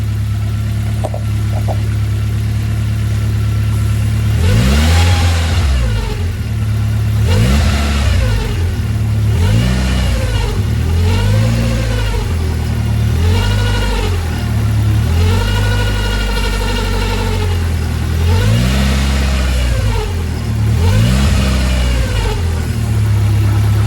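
A Ford Escort Cosworth engine idles and is revved repeatedly, each rev rising and falling in pitch, with a steady low hum and a whining tone underneath from an overtightened belt.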